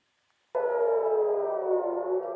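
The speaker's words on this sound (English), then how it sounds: "Sirens over Israel to warn of incoming Iranian fire" An air raid siren sounds over Israel warning of incoming fire, starting abruptly and holding a loud, steady wailing tone.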